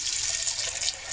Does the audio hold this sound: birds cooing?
no